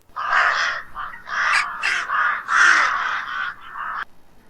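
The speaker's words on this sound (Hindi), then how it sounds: "कौवा बैठत रहोगा हमारे छत पे" A crow perched on a house roof caws several times in quick, harsh bursts, loud and close, with no other sound around it.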